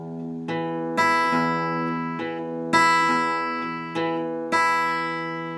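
Acoustic guitar fingerpicking a pattern of the low E, then the E on the 4th string, then the high string, ringing notes in a repeating cycle played close and clean, with no voices.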